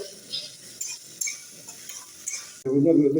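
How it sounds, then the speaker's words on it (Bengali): Potatoes sizzle softly as they fry in a pan, with light scraping and stirring clicks, followed by a louder voice speaking at the end. "কিচ্ছু খালি আলু একটু ভাজতে হবে লাল করে"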